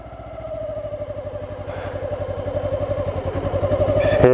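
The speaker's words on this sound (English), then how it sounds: "I'll show you this now if you just listen to the engine. Also the revs drop a little bit as well." A motorbike engine idles close by with a steady low rumble, its revs dipping slightly as the clutch is let out so the bike starts to roll, then climbing a little near the end; no talking.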